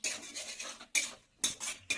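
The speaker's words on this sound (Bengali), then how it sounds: "আলুর সাথে মশলাটা নেড়ে চেড়ে নিতে হবে।" Fried potatoes being stirred with spice masala in a pan for a chickpea and potato curry, giving repeated bursts of scraping and clinking about every half second, close and fairly loud with short pauses between strokes.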